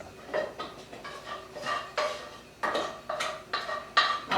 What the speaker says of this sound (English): I'll place everything into my sauce, mix it around.